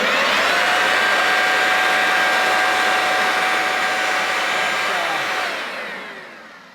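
A Ryobi Expand-It cordless axial blower attachment roars at full power, a loud steady rushing whoosh with a whining tone, running close for about five seconds before winding down and fading.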